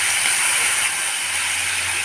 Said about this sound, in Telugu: ఉల్లిపాయలు వేగాలి.